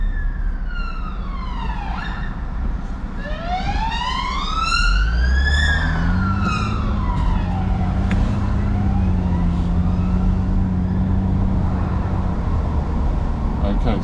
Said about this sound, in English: I'm going to keep out of the way of the ambulance